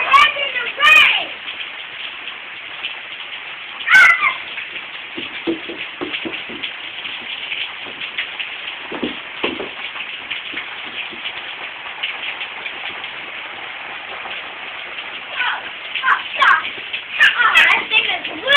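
Steady rain pattering on surfaces outdoors as children play in it, with kids' voices and shouts breaking through intermittently, close and lively over the constant patter.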